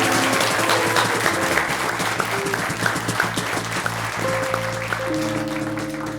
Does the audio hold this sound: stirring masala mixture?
no